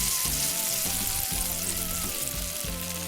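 Small shallots tossed into hot oil with fennel seeds give off a steady, moderately quiet sizzle and crackle, with some tonal sound running in the background.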